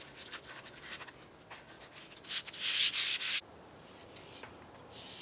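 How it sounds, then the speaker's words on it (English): Sanding by hand on the door of a 1963 Chevy C10 truck, a steady run of raspy rubbing strokes that builds louder near the middle, then drops to a softer scrape before a brief final burst. "Then I'll start sanding everything."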